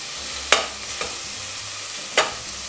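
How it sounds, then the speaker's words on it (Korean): Minced garlic stir-frying in a lightly oiled pot for kimchi stew, with a steady soft sizzle broken by three distinct scraping strokes of a spoon, close and unaccompanied by speech. "다진 마늘 그리고 한 반큰술 정도 넣으시고 볶아주세요"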